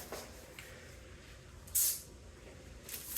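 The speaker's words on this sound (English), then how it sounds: "you want to give it a little spray" A short hissing burst of cooking oil spray shoots up sharply, with a second fainter spritz near the end, over quiet room background.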